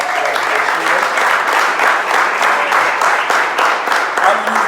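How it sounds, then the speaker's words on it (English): A round of applause from an audience fills the room, with steady, loud, continuous clapping from many people for nearly five seconds. "can we have another round of applause for the fantastic words by the staff?"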